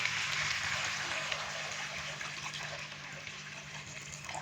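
Water pours steadily into a pot of frying chicken for a broth, a continuous rushing gush that holds at an even level throughout.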